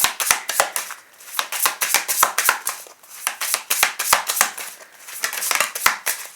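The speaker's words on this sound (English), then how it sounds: "I'm gonna shuffle the Message Truth Oracle cards" A deck of oracle cards is shuffled by hand, producing rapid, crisp riffling snaps and slaps in irregular bursts, close and fairly loud, with no talking over them.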